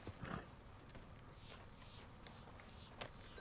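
The horse Roach walks in Red Dead Redemption 2, its hooves giving faint, uneven clip-clops over low outdoor ambience, quiet and at a modest distance.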